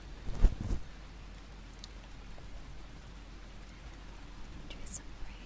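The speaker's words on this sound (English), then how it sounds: "Enjoy some rain." Soft rain patters steadily as an ASMR trigger, a gentle continuous wash with a couple of louder taps near the start and faint brief higher sounds later.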